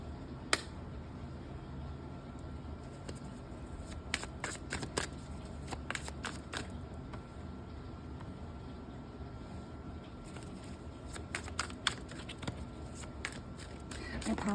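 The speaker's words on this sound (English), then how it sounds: "I apologize if the shuffling is kind of loud" Tarot cards being shuffled nearby in repeated quick riffling bursts, with soft papery flutters and clicks over a quiet room background.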